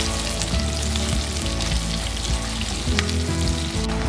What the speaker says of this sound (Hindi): अब इन्हें भी मैं हल्का सा फ्राई करूँगी।